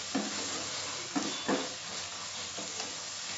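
Spicy tomato crab masala is sautéed over medium flame, with a steady, soft sizzling hiss punctuated by a few spaced scrapes of a spatula stirring the pan.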